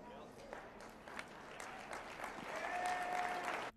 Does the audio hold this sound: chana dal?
no